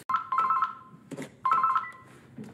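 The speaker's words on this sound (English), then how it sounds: "Actually using an actual landline here, can you believe that?" A landline telephone rings in two bursts of rapid electronic trilling separated by a short pause, loud and close, with no voices.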